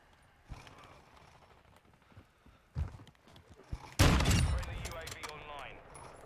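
Pistol shots in Call of Duty Modern Warfare II ring out as a few scattered sharp cracks, followed by a louder burst of game noise, with a person talking over it.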